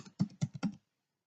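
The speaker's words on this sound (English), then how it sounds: "I'm just typing Happy's details in here, the username and also Happy's password" Login details typed on a computer keyboard: a short close-up cluster of about four quick keystroke clicks, then silence.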